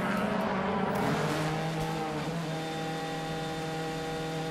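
DTM race cars pulling into the pit lane at the Nürburgring in 2014, a steady engine drone with tonal whine, loud and continuous, briefly swelling as cars pass near.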